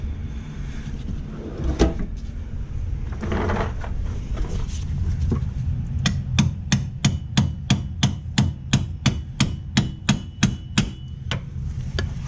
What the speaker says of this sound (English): Let's go over here and grab us a hammer.